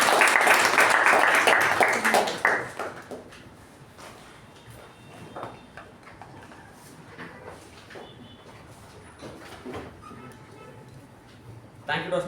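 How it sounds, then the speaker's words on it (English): Audience applause for a club president at a Toastmasters meeting, a loud burst of clapping that fades within a few seconds, followed by speech in the room. "With a huge round of applause, please welcome our President"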